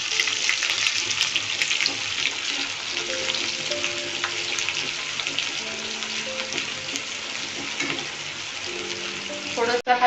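Paneer curry fries in a pan with a steady bright sizzle while a spoon stirs it now and then, close and continuous for about ten seconds, ending in a sharp clatter.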